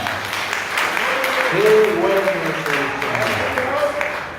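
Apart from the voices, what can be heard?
congregation applause in church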